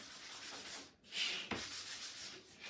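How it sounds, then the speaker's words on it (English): Wood sanded by hand with 220 grit sandpaper during a vintage home decor project, a steady soft rasping rub that carries through nearly the whole stretch, broken by a brief pause and one sharp tap. "And then we'll be done with the sanding part of it."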